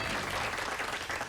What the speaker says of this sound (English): You don't have to clap all the time.